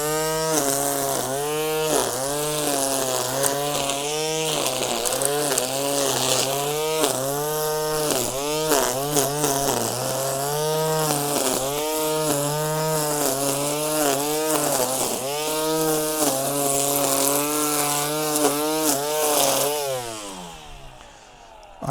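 Battery-powered line trimmer with a 5 amp-hour battery running close and loud for about 20 seconds, its motor whine rising and falling in repeated revving surges before winding down at the end.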